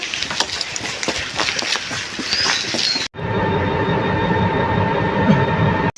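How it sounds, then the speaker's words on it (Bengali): Rail rumble of a train journey heading to a junction, a steady broadband roar of wheels and carriage that cuts abruptly at the midpoint into a different constant hum with tonal bands, close and loud throughout. "তারপর ট্রেন জার্নি দেখাই।"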